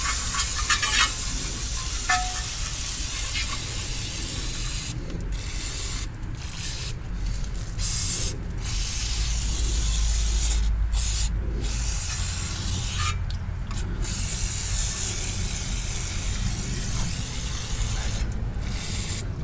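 Brake cleaner sprayed onto parts of a 2011 Toyota Sienna van: a continuous loud hiss from an aerosol can, interrupted by several short pauses between bursts, close to the microphone.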